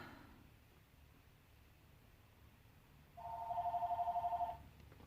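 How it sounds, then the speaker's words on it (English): A phone goes off in a quiet room, its ring a fast warbling electronic trill that lasts just over a second, fairly close, after near silence. "That's just the phone that's going off."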